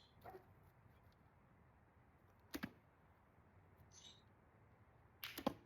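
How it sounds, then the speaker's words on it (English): An arrow loosed from a stiff Osage orange self bow, heard as three brief sharp releases with a twang spread across a quiet room, alone with no talk. "let's see what happens when we shoot a couple arrows"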